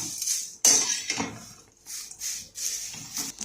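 Curry leaves dry-roasting in a pan without oil, crisp crackling and rustling with sharp clinks of a utensil scraping the pan, close and intermittent over a few seconds, no talk.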